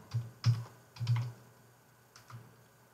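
Typing a label on a computer keyboard in Codesys automation software: a few short bursts of close keystrokes with pauses between them, ending in a lone tap.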